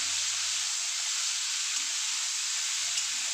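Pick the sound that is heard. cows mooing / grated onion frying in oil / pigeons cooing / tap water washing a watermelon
grated onion frying in oil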